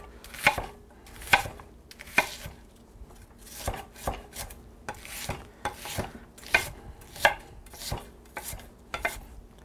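A knife chops an onion on a cutting board in a home kitchen, with about a dozen crisp, evenly spaced strokes at a moderate pace and nobody speaking.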